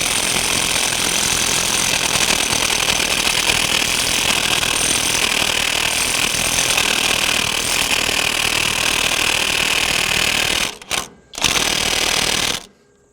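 A Kobalt 24-volt brushless mid-torque 1/2-inch impact wrench hammers continuously in reverse on a stretching bolt, a loud close rattling drone for about ten seconds, then brief stops and restarts before cutting off.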